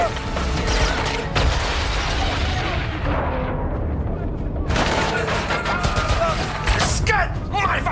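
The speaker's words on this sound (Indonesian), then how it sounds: "terjadilah baku tembak antara pasukan Ruskov dan pasukan Tom" Gunfire rings out in a shootout between two armed military squads, dense bursts of shots and booms filling the whole stretch, with scattered voices mixed into the chaos.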